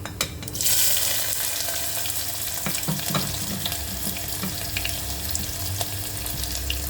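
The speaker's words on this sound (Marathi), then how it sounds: "कांदा हा चांगला तेलामध्ये परतून घ्यायचा" Hot oil hisses loudly and continuously as a large onion fries after cumin, with a burst of sizzle at the start and light stirring taps underneath.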